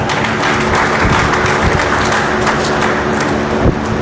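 A group claps hands steadily at a naturopathy hospital event at a college, a dense, even patter of close-up clapping with no voices over it.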